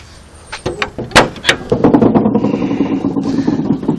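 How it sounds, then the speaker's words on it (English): A Chevy truck engine cranks with a few sharp clunks, then catches and settles into a steady, loud running rumble close to the listener. "There go the engine."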